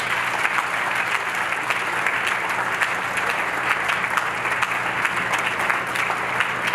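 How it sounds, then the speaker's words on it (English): Steady applause from a crowd at a tech expo in Ghana, dense clapping that holds at an even loudness throughout without pause. "Ladies and gentlemen, once again, with a round of applause"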